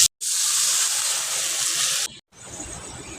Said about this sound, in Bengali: এবার আমি এটাতে জল দিয়ে দেবো